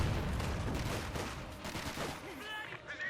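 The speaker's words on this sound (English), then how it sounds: "he got a mortar there firing in again" Mortar fire and explosions in the Company of Heroes 2 real-time strategy battle, a dense run of loud booms and gunfire blended into a busy battlefield mix from start to finish, with a brief lull near the end.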